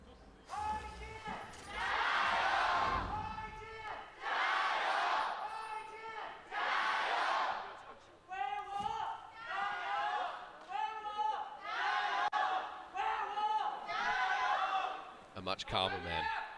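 Stadium crowd at an LPL esports match in Hongqiao chanting in loud, rhythmic bursts, several repeated shouted phrases separated by short pauses, filling the arena.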